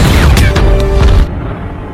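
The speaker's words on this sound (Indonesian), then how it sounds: "Dan ternyata ledakan besar yang telah terjadi" A big, loud explosion booms in a film, its heavy rumble filling the first second or so and then cutting off abruptly into a quieter, dull tail.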